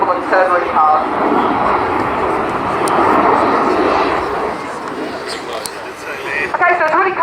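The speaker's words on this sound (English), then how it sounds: "Fly down the runway, make as much noise as possible, and turn really hard." A military jet at the RNZAF Air Tattoo making a low, loud pass down the runway, a sustained roaring engine that builds and fades, with an announcer's voice heard at the start and end.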